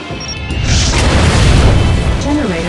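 A heavy airstrike explosion in the mobile game Warfair, a loud sustained booming roar with rumbling low end that swells and lingers, a voice speaking faintly over it.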